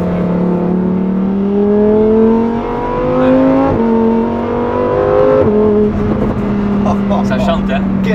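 Lamborghini Huracan Tecnica with a naturally aspirated 5.2-litre V10 of 640 horsepower, revving loudly up through rising gear pulls with short shift breaks, close and continuous.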